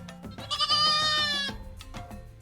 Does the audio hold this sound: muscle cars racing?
no